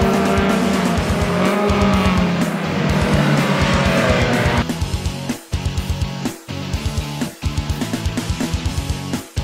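Gold Turismo race cars battle at Interlagos, their engines loud and close with squealing tyres, then a rapid rhythmic pulsing of revs as the cars drive on.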